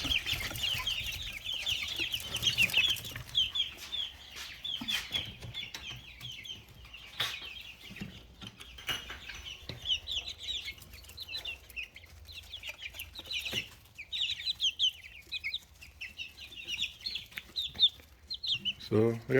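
Chickens clucking and chattering while eating mealworms near a cage, a busy run of close, overlapping soft calls with scratching and knocks underneath.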